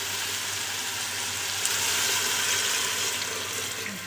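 Water pours steadily into a pot of egg and mutton korma over softened tomatoes, a continuous close rushing splash with a faint sizzle underneath, without any talking.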